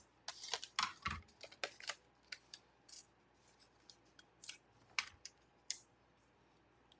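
Paper being cut with die-cutting plates for dry embossing, producing a series of sharp, crisp clicks and snips at an irregular pace, close and fairly quiet with no talk.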